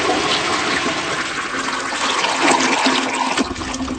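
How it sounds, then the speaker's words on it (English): A home toilet flushes with a steady, loud rush of swirling water that fills the whole stretch without a break, heard close up and with no talk over it. "Well, I'm about to flush."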